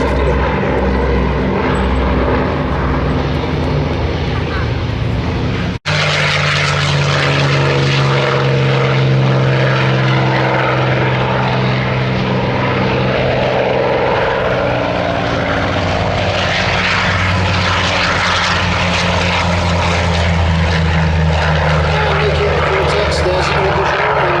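WWII propeller warbird aircraft flying at the Sywell airshow, a loud, steady droning engine roar close by that swells and shifts in pitch as the plane passes, with a commentator talking over it.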